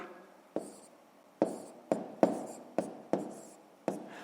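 Pen or pencil writing numbers by hand on paper during a fifth-grade maths column addition, a series of short distinct scratchy strokes, about seven in a row, close and quiet with no voice.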